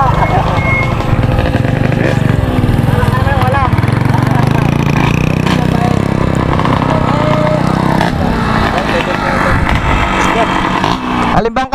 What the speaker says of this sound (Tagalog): Tatry natin drag bike, oh. First drag bike na natin testing